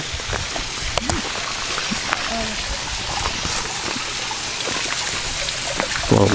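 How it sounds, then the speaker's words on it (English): Small waterfall along the Madison County nature trail, a steady rushing, trickling wash of water heard nearby throughout, with people talking faintly over it. "Little waterfall."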